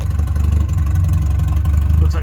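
A car engine idles with its exhaust cut off at the differential, giving a loud, steady low rumble with a pulsing beat that holds throughout, close by and unbroken.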